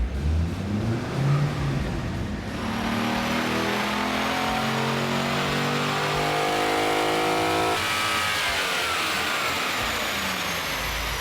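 A C5 Corvette Z06 with bolt-on upgrades revving hard on a dyno: the engine climbs steadily in pitch through a long, loud wide-open pull, then shifts and keeps roaring at high revs to the end.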